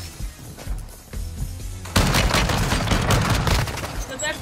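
An MX Guardian shotgun fires in Warzone, with a sudden loud burst of rapid blasts breaking in after a quieter start and continuing densely to the end.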